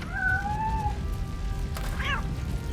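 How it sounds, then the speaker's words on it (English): A cat in the RoboCop: Rogue City video game gives two drawn-out meows, then a short chirpy mew, heard over a steady low rumble of game ambience. "That's the Benjamin cat from the hotel."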